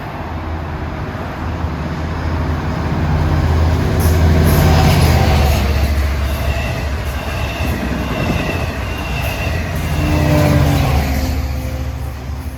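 A Long Island Rail Road train passes New Hyde Park station during the morning rush, a loud steady rumble of cars and wheels swelling and easing as it rolls close by, with faint high wheel squeal.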